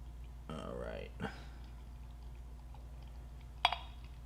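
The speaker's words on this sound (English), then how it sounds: "Let's pour this out." Beer, likely a cloudy New England IPA, is poured into a glass, a brief liquid gush followed by quiet fizz and a sharp clink, low in level with some faint voice present.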